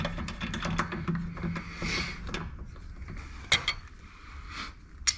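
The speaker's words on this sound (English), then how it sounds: "you always want to kind of tighten lug nuts in a star pattern so you get even pressure on all the lug nuts" Wheel lug nuts are snugged on a Tesla fitted with an 18-inch T-Sportline TSS Overlander tire and wheel package. Quiet, irregular ratcheting clicks and metallic creaks come in short bursts, with a few sharper knocks near the end.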